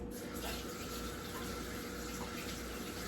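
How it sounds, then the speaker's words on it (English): Hands rinsed under a running kitchen tap while baking a honeybun cake, a steady, quiet stream of water splashing continuously without pause. "Oh, let me rinse my hand. Oh, wash my hands."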